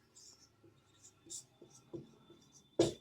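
Teacher writing on a classroom board during an economics lesson: scattered short scratchy strokes and taps, ending in a louder knock, with faint murmured voice in the background.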